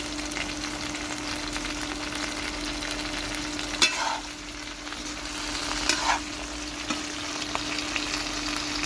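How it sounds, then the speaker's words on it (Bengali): Eggplant frying whole in a pan for a hilsa fish curry with potato: a steady soft sizzle with a few brief stirring scrapes, no voices. "দেখুন বেগুন হালকা হালকা ভাজা হয়ে গেছে"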